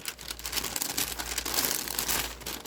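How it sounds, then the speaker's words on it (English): Sheets of tracing or onion skin paper are crinkled and handled close by, giving bursts of crisp rustling and crackling with small pauses between them and no voices. "Tracing paper or possibly onion skin paper, but yes, listen."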